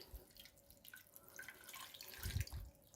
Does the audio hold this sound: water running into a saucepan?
yes